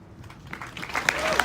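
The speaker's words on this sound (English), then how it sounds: "Round of applause for the United States Army Infantry Rifle Squad." Applause from a graduation ceremony crowd for a US Army infantry rifle squad swells over a brief moment, fairly distant and mixed with faint voices.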